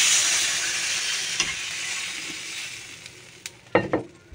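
Water hits fried spice paste in a hot pan, setting off a loud, hissing sizzle that slowly dies away, followed by a few sharp clatters of a utensil against the pan near the end.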